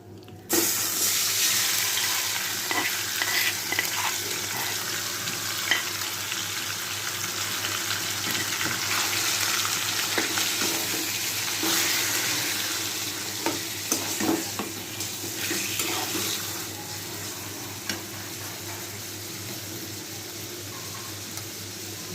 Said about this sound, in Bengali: এবার ম্যারিনেট করা মাংস দিয়ে দিচ্ছি